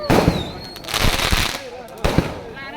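Several sharp firecracker bangs burst out close by at a birthday celebration in Suryapet, with excited voices calling out between the blasts.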